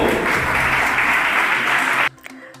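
A crowd gives loud, steady applause at a ceremony honouring high-achieving Madhyamik and Higher Secondary students at a school in Karandighi block. The clapping stops abruptly near the end, leaving a near-silent room with faint stray sounds.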